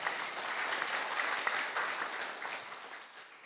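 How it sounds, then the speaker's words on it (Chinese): An audience at a spiritual lecture hall applauds warmly, a steady wash of many hands clapping that holds evenly and tapers slightly at the end, with no voices. "这些同门的师兄姐啊，的掌声的特别热烈，也特别的大声"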